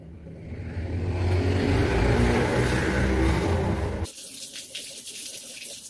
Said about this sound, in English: now that I've picked them from the stem, washing them again